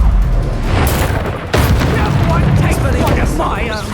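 A burst of fire spell effects in Hogwarts Legacy, loud booming blasts and crackling magic bursts mixed with a voice calling out spells over game music.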